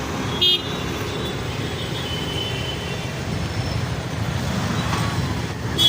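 Dense road traffic stands jammed, with a continuous broad rumble of engines and a short horn toot early on, heard from within the stalled queue.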